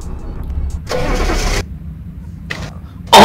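A gas Duramax pickup truck engine in a Roblox game, unused for a month, cranks with loud bursts and catches into a mid-pitched running rumble, then a brief loud surge at the end.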